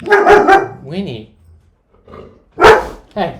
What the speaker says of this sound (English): Sorry the dogs are so barky.